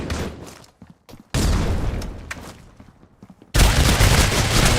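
Grenade explosion and bursts of gunfire in the C-OPS video game, with loud sudden blasts and rattling shots broken by short quiet gaps.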